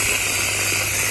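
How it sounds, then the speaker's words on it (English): Whipped cream sprays from an aerosol can onto an ice cream dessert in a home kitchen, a steady close hiss running unbroken throughout. "Just getting the whipped cream."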